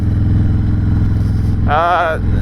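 A Harley-Davidson Dyna Low Rider S with a twin cam engine rumbles loud and close while riding, a deep throbbing idle-like pulse, with a rider's voice speaking briefly over it near the end.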